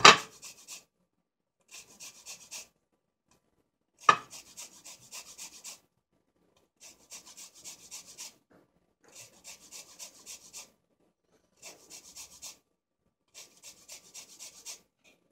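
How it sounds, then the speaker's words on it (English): A lime is zested on a grater in a kitchen, with short bursts of quick rasping strokes separated by pauses, quiet and close, plus a couple of sharp knocks. "We'll zest the lime."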